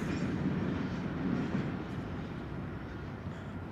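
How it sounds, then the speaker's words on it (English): A steady, broad low rumble of a train rolling past near Telford Lake in Leduc, continuous and fairly close, slowly easing off toward the end with no voices. "Seeing the train's gone by now."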